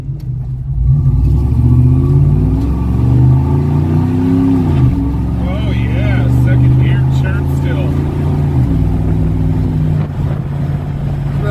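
A pickup truck with a 305 engine and mini spool accelerates from inside the cab, the engine droning loud and steady with rising and falling revs through a gear change.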